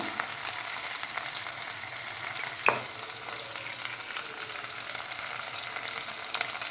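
Ginger-garlic paste fries in a pan with a soft, even sizzle throughout, broken by a sharp metallic clink partway through and a few light stirring scrapes.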